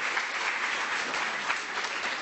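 A university lecture-hall crowd claps steadily to welcome a Google speaker at a Monash University tech talk in 2014, a dense, even wash of applause with no voices over it.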